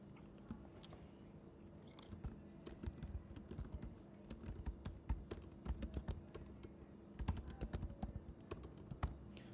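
Quiet, steady typing on a computer keyboard, a close run of light key clicks with brief pauses and bursts of faster strokes, with no talking.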